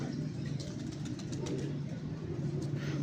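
Pigeons on a rooftop, a cumin-coloured zeera pigeon with a grey kamgar female, give steady low cooing that runs continuously through the moment, with faint outdoor noise behind.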